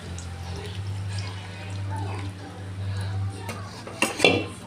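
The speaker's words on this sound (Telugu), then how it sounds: "ఈ రసాన్ని ఇందులో పోసేసుకోండి." Soaked tamarind juice is poured into a pot of cooking dal, a soft liquid wash over a steady low hum, ending with a brief louder clink of utensils against the vessel.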